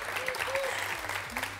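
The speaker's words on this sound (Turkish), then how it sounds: "Hani alkış bize? Bir daha daha kuvvetli istiyoruz bugün." A studio audience on a cooking and talk show gives a short round of applause, moderately quiet with crowd murmur and a faint voice mixed in.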